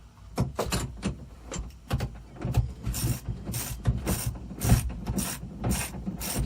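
A hand ratchet clicks in quick bursts while tightening nuts on a bucket seat bracket for a G35 drift car. The close, dry pawl ratcheting comes in irregular strokes with brief pauses between them.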